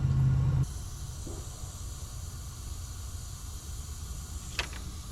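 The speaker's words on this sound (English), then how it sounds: "That's a boost leak." A boost leak on a Volvo 850R engine gives a steady, fairly faint broadband hiss. A louder low rumble opens the first half-second, then the hiss continues alone with a brief click near the end.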